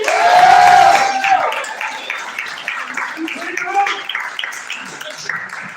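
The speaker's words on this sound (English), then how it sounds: "Give yourselves a round of applause for coming out tonight." Improv comedy show audience clapping and cheering, a loud burst at the start that settles into lighter scattered applause as a voice carries on over it.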